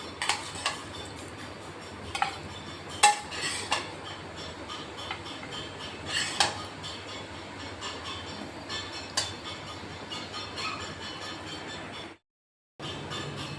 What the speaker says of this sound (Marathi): आता आपण प्लेटमध्ये काढून घेतोय.